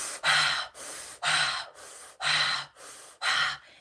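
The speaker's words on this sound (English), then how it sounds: "You want to breathe very deep." Four deep breaths follow one another in a slow, even rhythm, each a loud, airy rush lasting about half a second, close to the microphone with no talking.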